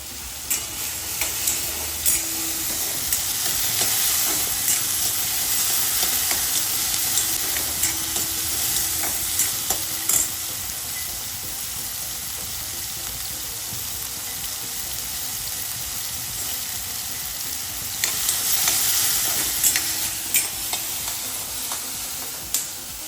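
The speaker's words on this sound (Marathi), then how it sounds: "हे टोमॅटो आणि कांदा आपला छानपैकी फ्राय झालेला आहे" Tomato and onion fry in a pan with a steady, close sizzle while a spoon stirs and scrapes through them at intervals, no voices over it.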